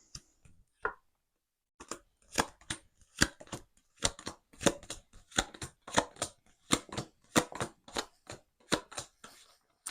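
Tarot cards are cut and handled by hand, producing a quick series of sharp, close papery snaps and slaps in an irregular rhythm, with no talking.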